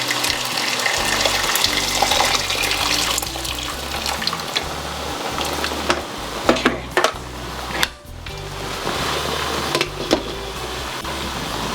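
Water poured into a soup pot of chickpea and quinoa soup on a stove, a continuous rushing splash with a few clinks of the pot and brief pauses near the end.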